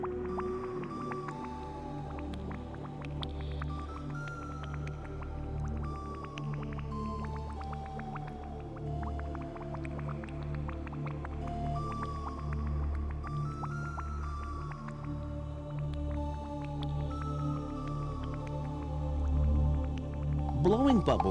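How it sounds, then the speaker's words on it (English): Underwater whale sounds as a male whale blows bubbles, with soft watery bubbling and gurgling, faint gliding tonal calls, and a low rumbling bed, heard while a narrator talks over them. "Blowing bubbles tells other males to hit the road"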